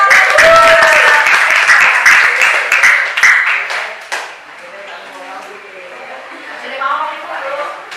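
A classroom group gets a burst of clapping, loud and dense for about four seconds, then thinning into scattered claps while voices chatter in the background.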